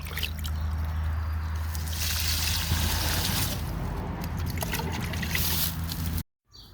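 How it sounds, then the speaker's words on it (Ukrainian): Diluted fertilizer solution poured from a watering can under the roots of cucumber plants, a steady close trickle and splash of liquid running for about six seconds before stopping abruptly. "Гарно все розчиняється і підливаю під корінь."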